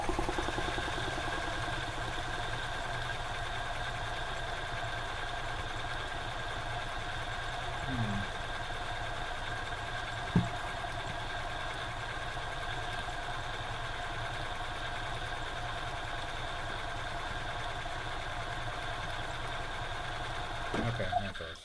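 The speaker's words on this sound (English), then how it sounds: "crank the engine over." A 1997 EZGO TXT gas golf cart engine turns over with the gas cap off, giving a steady, fairly quiet mechanical hum with a sewing-machine-like whir and a couple of small clicks.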